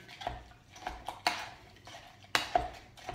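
Melon being mashed to a pulp in a kitchen, a series of short knocking and clattering hits of utensil against bowl in an irregular rhythm, close by and fairly quiet with no talking.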